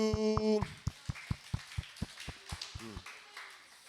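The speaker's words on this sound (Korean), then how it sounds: "우리 서로를 위해서 박수" Church congregation claps in a slow, evenly spaced rhythm of about a dozen distinct claps in a reverberant hall, following a voice at the start.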